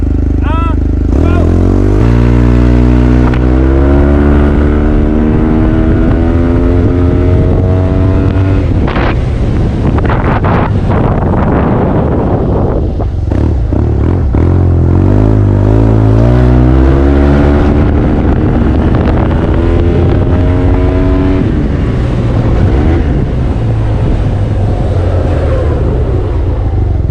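Yamaha T-Max scooter pulling away from a standstill, its engine note climbing in pitch through repeated rising sweeps and loud wind buffeting on the microphone, with a brief voice near the start.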